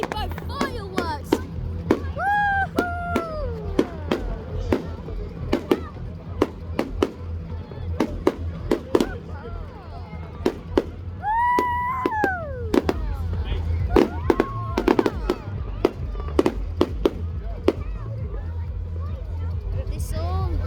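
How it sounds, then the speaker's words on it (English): Rainbow fireworks at a Bonfire Night display at Littledown burst in rapid irregular cracks and bangs, some sharp and loud. Rising whistling shells mix with crowd chatter and nearby talking. "look at these rainbow fireworks!"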